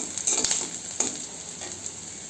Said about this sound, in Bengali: মরিচ পেঁয়াজ ভেজে নিচ্ছি